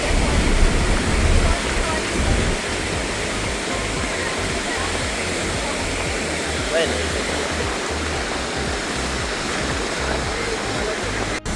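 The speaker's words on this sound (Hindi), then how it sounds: "जो अभी तक हमारे साथ चल रही थी वो थी ये नदी, अपनी ही रफ्तार में बहती हुई" A strong monsoon-swollen river rushes beside a roadside, its steady, dense roar of flowing water filling the scene continuously and loudly, with no break in the torrent.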